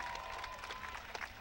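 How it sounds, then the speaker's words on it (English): Crowd applause in the stands of a bulls-only rodeo arena at a county horsemen's event, a steady, fairly distant patter of clapping that holds evenly throughout. "Let's give those banners and those gentlemen a round of applause that are in your arena today."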